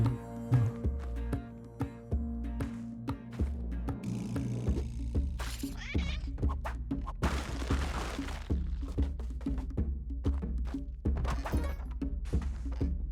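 Repeated bomb blasts in a video game fire off in quick succession as thuds, cracks and shattering bursts over a steady game music bed, with many punchy impacts packed close together.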